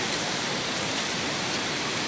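Brownish water rushes steadily over the dam of the Sigura-gura hydroelectric plant, a loud, continuous broadband roar with no pauses, heard up close and without speech.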